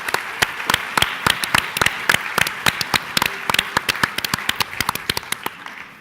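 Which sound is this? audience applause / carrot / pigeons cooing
audience applause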